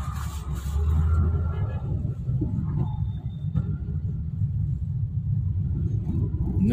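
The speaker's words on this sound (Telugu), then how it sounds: "ఏం ఫ్రెండ్స్ ఇంత ట్రాఫిక్ ఉంది ఈరోజు" Morning road traffic in Bengaluru, heard from inside a BMTC city bus, comes through as a deep, continuous engine and road rumble with faint passing vehicle noise.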